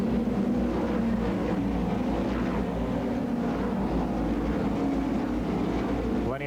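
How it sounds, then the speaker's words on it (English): Open-wheel NASCAR Modified stock cars with engines over 650 horsepower roar loudly around Pocono Raceway, a dense, continuous engine drone that holds steady throughout with no pauses. "over 650 horsepower being produced by these engines on these open wheel stock cars"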